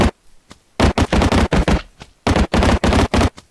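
Type 100 submachine gun from a Minecraft WW2 gun mod, firing in rapid bursts of loud close shots, two long strings separated by a short pause after a single opening shot.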